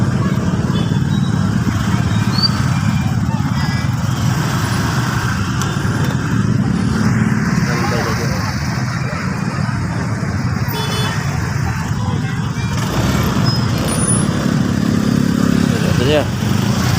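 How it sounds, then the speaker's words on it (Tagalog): Dense city traffic in Iloilo, with cars and motorcycles rumbling steadily throughout and occasional horn toots; voices talk over the continuous engine noise. "Grabe traffic oh."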